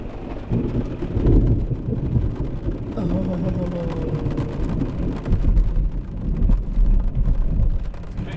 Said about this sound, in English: pretty close because the lightning and the thunder was right after the lightning